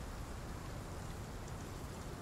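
Rain pours down in the video game Path of Titans, a constant dense patter and hiss that stays level from start to finish with no talking.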